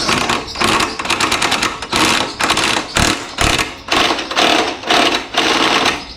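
A Makita DTW190Z 18V brushless cordless impact wrench loosens a wheel nut on an electric bicycle, its loud rattling hammer bursts repeating in rapid pulses with short pauses between them.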